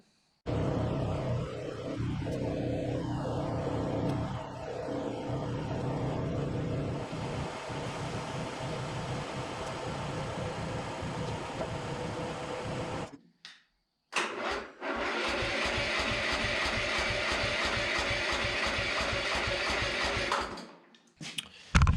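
An old abandoned riding lawn mower engine cranks slowly and laboriously in two long bursts, a loud grinding starter churn with a brief pause between them, and no talking.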